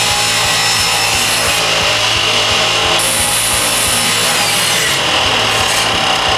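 Continuous sawing through mahogany boards being cut to width, a loud, steady power-saw drone with wood rubbing and rasping throughout, no pauses or voices.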